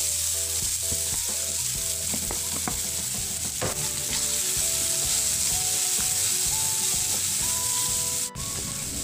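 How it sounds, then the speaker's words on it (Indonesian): Garlic and vegetables sizzle and fry steadily in a hot pan, with intermittent scraping and stirring clatter from a utensil throughout, close and loud with no talk. "Bawang putih kita tumis dulu. Ini sampai kecoklatan."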